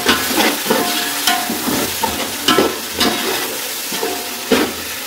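Yogurt frying with chickpeas in a pot for degi chana pulao, a steady close sizzle broken by repeated stirring scrapes and clinks at irregular intervals, no talk.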